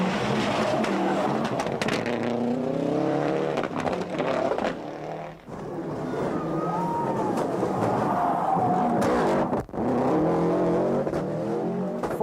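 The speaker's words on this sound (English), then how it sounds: "Next came the fleet of Subaru Imprezas, Pierre Eliatti heading for 6th." Subaru Impreza rally cars competing in the 1995 World Rally Championship, engines revving hard and accelerating with rising and falling pitch, loud and close, with brief dips as cars shift and pass.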